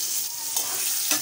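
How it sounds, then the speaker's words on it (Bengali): Tomatoes frying in oil in a wok being stirred, a close hissing sizzle with scraping strokes of the spatula, brief and steady. "এদিকে কড়াটা নেড়ে দিই। টমেটোটা একটু ভাজা ভাজা হয়েছে"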